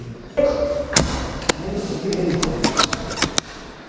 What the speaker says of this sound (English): They're shooting the cardboard boxes thinking they can get me